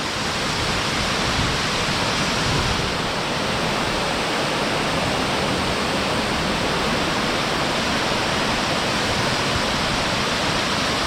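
A hidden waterfall in Palakkad roars as a loud, continuous broadband rush of falling water, steady and close throughout with no voices.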